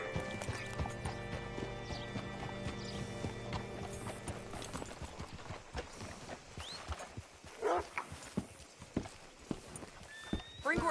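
Horse hooves clip-clopping on the ground in Red Dead Redemption 2, a steady walking rhythm under ambient game sounds, followed by a few louder scattered knocks and a brief whinny.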